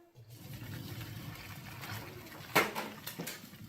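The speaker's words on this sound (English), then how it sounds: "So I'm going to drain the noodles." Spaghetti water and noodles being drained into a colander set over a sink, a soft continuous watery pour with a brief splashy burst near the end, fairly quiet and without talk.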